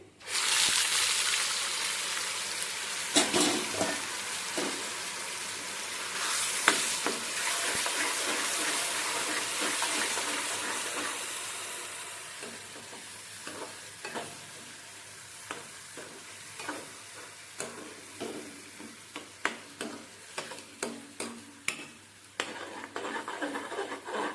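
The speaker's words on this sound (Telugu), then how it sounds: "నెక్స్ట్ ఈ ఉల్లిపాయ పేస్ట్ వేసేసేయాలి." Onion paste frying in a pan for paneer butter masala: a steady broadband sizzle at first, then quieter frying broken by repeated scraping and stirring strokes, close by with no talk.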